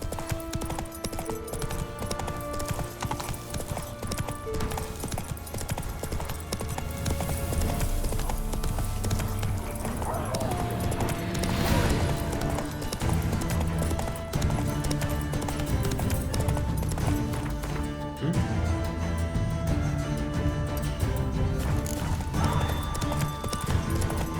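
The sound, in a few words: horse Roach galloping, from a video game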